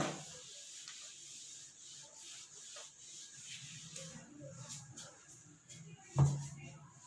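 Writing is rubbed off a board by hand during a maths lesson, a faint soft scrubbing that comes and goes in short strokes, ending with a small knock close by.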